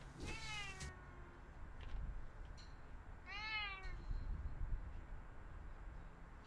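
Two pet cats, Milo and Sneasel, meow at a doorway, with one drawn-out meow near the start and a second around the middle over a steady low background hum.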